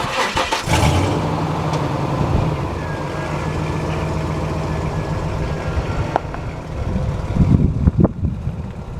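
A truck engine cranks and turns over, running roughly at a steady idle with clanking noises near the end, close by.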